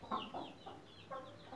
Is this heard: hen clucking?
yes